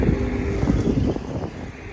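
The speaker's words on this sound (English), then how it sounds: "Them race cars on the inside." NASCAR race cars roaring around the Rockingham oval in North Carolina, a loud engine drone sweeping past with wind buffeting the microphone, no talking.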